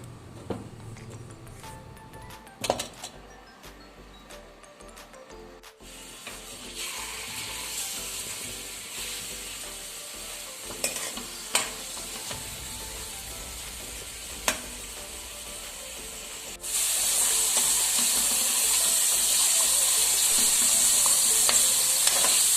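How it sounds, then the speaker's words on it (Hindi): Chicken pieces fry in about two tablespoons of oil in a pan with a steady broadband sizzle and scattered scraping clicks of stirring, the hiss swelling louder and brighter in the final stretch. "एक पैन में 2 खाने के चम्मच ऑयल और साथ ही चिकन को तकरीबन 8 से 10 सेकंड के लिए फ्राई करूंगी"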